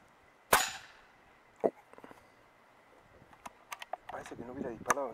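An FX M3 air rifle fires at parrots during pest control, a sharp close crack, followed by a second fainter shot and scattered clicks, with people talking quietly nearby.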